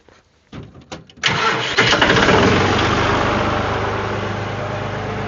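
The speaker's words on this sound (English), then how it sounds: "And crank the tractor." A tractor engine cranks with a few stuttering turns, then catches and roars to life, settling into a loud, steady idle close by.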